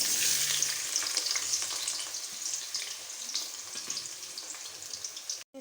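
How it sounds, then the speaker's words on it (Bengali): Raw jackfruit pieces fry in hot oil, a bright continuous sizzle with light stirring scrapes, close and fairly quiet, fading slightly before a brief dropout at the end. "এবার আমি এঁচোড়গুলো ভেজে নেব"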